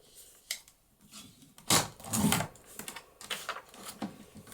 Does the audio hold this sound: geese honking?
no